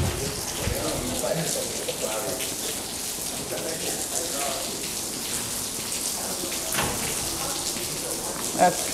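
Water pours steadily through a severe leak inside a university lecture hall, making a continuous rain-like splashing hiss with scattered drips, while voices murmur faintly underneath.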